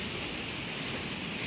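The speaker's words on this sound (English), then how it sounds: "it is downpouring now" Heavy rain pours down outside during a downpour, a steady even hiss heard from indoors, fairly soft and unbroken.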